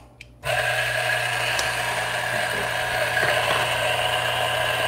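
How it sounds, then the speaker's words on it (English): A DF64 coffee grinder switches on and grinds coffee beans, a loud, steady close motor whir with a gritty crunch running throughout. "let's grind some coffee beans"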